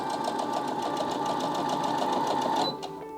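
A Baby Lock Jubilant portable sewing machine stitches at medium speed with a steady, fast mechanical whir and rapid needle pulses, then slows and stops near the end.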